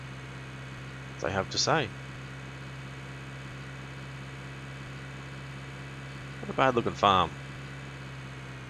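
Tractor engine idling in the Cattle and Crops farming video game, a low steady hum running continuously beneath two short bursts of talk.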